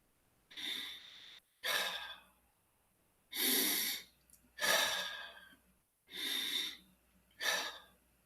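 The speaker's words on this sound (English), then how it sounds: "Take a deep breath from your nose and exhale out of your mouth." Six deep, breathy inhalations and exhalations come one after another in a slow, even rhythm, each a loud, close rush of air drawn in through the nose and let out through the mouth, separated by brief pauses.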